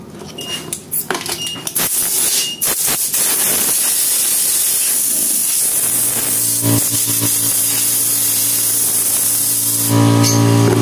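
Compressed air blasting from a coin-operated carwash vending machine, starting after a few clicks and knocks, then a loud steady close-up hiss with a low hum beneath it.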